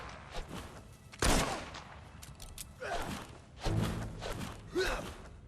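Gunfire in the video game Fable 3, with a few scattered shots and thuds among grunts and gasps, including one loud, close blast near the start.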